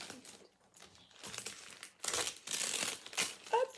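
Close crinkling and tearing of wrapping paper as a gift-wrapped package is opened, in irregular rustling bursts that grow louder toward the end.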